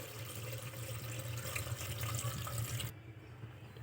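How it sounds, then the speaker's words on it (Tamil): Water streams from a tap into a pot for Tamil-style dal rice, a steady broadband rush that stops abruptly near the end, leaving quiet room tone. "இப்போ இது கூடவே தண்ணி ஆட் பண்ணிக்கலாம்."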